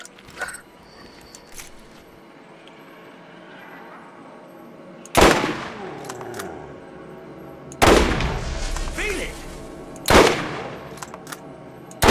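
Shotgun blasts in a zombie-island shooter game, three or four loud, sharp booms spaced a couple of seconds apart with mechanical clatter between them, following a quieter stretch of game ambience.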